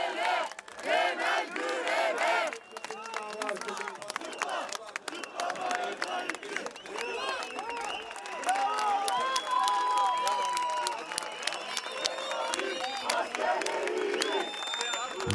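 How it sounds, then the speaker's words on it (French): A protest crowd in Turkey claps and cheers for young activists, a dense, sustained wash of applause with shouts and voices rising and falling throughout. "La foule applaudit les jeunes militants."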